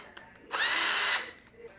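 A power drill whirs loudly in one steady burst of a little under a second while fitting a TV lift inside a Series 2, with quiet clicks before and after and no speech.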